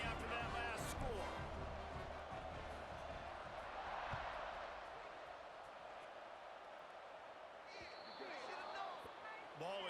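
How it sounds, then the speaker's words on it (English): Football stadium crowd buzzing after a long touchdown pass, a steady broad roar filling the whole stretch, swelling slightly midway, with an announcer talking over it. "this crowd is buzzing after that last score"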